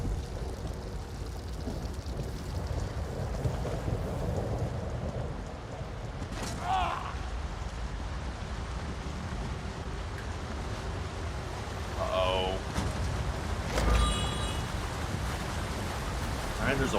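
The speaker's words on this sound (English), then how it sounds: "There's a waterfall." A waterfall in the video game ESO: High Isle pours as a steady, even rushing wash that never lets up, with a few brief game sounds popping out over it.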